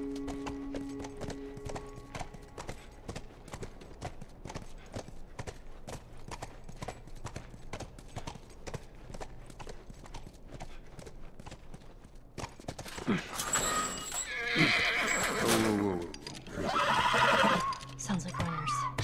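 Rhythmic hoof clip-clops pace steadily, then a horse lets out loud, drawn-out neighs and whinnies near the end, in the video game The Last of Us.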